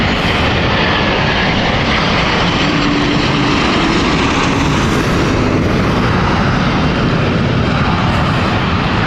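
Aircraft engine at London City Airport, a loud, continuous broadband roar that holds steady throughout, with no talking over it.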